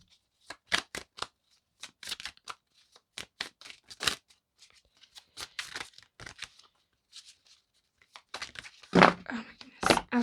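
Tarot cards being shuffled by hand in bursts of crisp riffling and slapping, close and fairly quiet, with pauses between runs and a denser flurry near the end.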